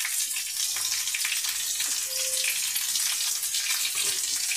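Onions fry lightly in a pan with salt added for a village-style onion chorchori, giving a steady, moderate sizzling hiss with a faint metallic scrape partway through.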